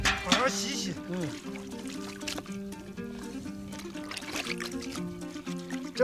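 Beef tripe being rinsed by hand in water, soft trickling and sloshing close by, low in level, with voices talking over it.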